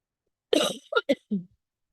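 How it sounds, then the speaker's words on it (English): A short burst of coughing, one harsh cough followed by a few smaller throaty coughs, close and alone in otherwise quiet surroundings. "I've been a little under the weather, so I do have a cough."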